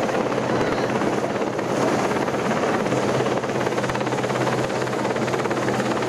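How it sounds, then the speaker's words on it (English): Royal Navy Mark IV Sea King helicopter hovering at an airshow, a loud continuous rotor thrum and turbine roar held steady throughout, nearby and without talk. "The venerable Mark IV Sea King hovers in a rock-steady hover about 150 feet."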